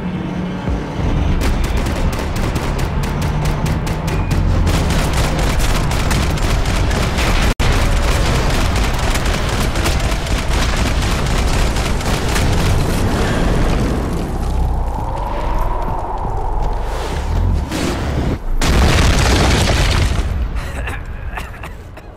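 Gunfire and explosions from the video game Max Payne 3, played on hard difficulty: a loud, continuous barrage of rapid shots and heavy booms that rarely lets up, with brief shouted voices mixed into the chaos.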